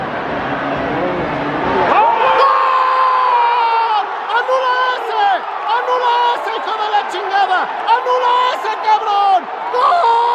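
A stadium crowd at Estadio Necaxa erupts after a goal, a sudden loud roar of cheering and whooping voices that holds for several seconds at full volume.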